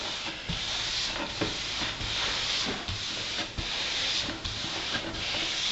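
A pad rubs back and forth over a wooden surface during French polishing, steady close swishing strokes in a regular rhythm, each pass a soft hissing rasp with faint knocks at the turns.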